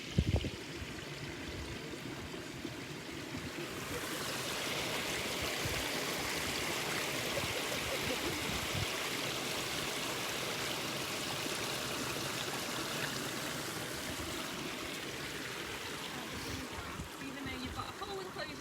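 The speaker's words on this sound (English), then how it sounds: "The sound of the water," Water flows steadily in a stream at a wildlife park, a continuous soft rushing and trickling that stays even throughout with no voices.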